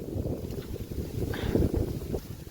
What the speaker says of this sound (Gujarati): પવન આવે છે, બહુ અંધારો છે.